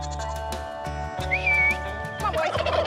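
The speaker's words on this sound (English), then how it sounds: "round up the barnyard animals to be fed" Turkeys gobbling in a farm barnyard, a few loud rattling gobble bursts close by with a sheep-like bleat mixed in, no talking.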